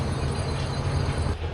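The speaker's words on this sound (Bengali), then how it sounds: "উদয়ন এক্সপ্রেস ছেড়ে দিল শায়েস্তাগঞ্জ থেকে" Udayan Express train pulling out of Shaistaganj station on the Chittagong–Sylhet line, a loud, close, continuous low rumble of wheels and carriages.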